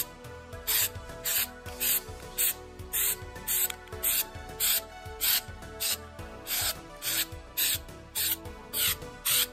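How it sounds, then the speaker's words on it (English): Short repeated hissing bursts of an aerosol sealant spray can on the seams of a military rain poncho, about a dozen quick sprays in a steady rhythm, close up with no talking. "I just give them a spray."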